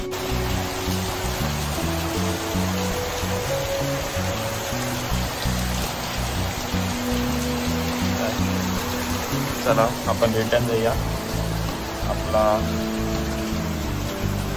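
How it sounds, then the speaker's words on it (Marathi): Steady, dense wash of heavy monsoon rain in Mumbai fills the clip, with a person speaking briefly over it near the end. "पाऊस पण खूप पडते"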